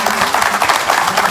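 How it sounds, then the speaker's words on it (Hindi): A crowd claps at a public gathering, making a dense, even burst of applause that holds steady throughout, loud and close without a clear break. "डॉक्टर साहब के लिए जरा जोरदार तालियां"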